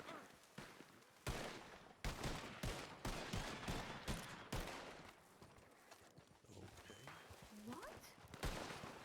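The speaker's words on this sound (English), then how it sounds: "They're shooting our people down." Gunfire in Red Dead Redemption roleplay: a rapid, irregular barrage of sharp nearby shots cracking throughout, mixed with voices talking and shouting.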